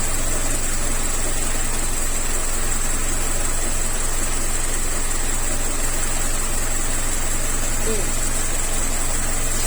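Car engine idling at operating temperature during a Mazda transmission fluid check, a steady, even hum with a constant high whine and broadband hiss, unbroken for the whole stretch.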